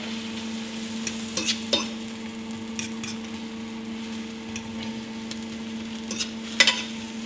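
Vegetables and three eggs frying together for an omelette, a constant sizzle broken by several sharp scraping stirs of a utensil against the pan, with a low steady hum behind and no speech.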